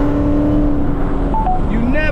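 A Chevrolet Camaro ZL1 driving through city streets, its engine droning loud and steady from inside the cabin with rising tonal whine near the end, under someone talking.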